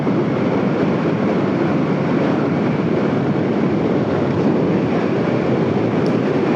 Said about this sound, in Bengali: প্রচুর বাতাস রে